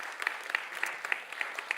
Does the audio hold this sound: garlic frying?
no